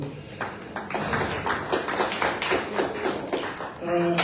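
An audience claps to honor a couple married 63 years: a run of sharp, close hand claps under ongoing talk, ending with a tonal sound at the close.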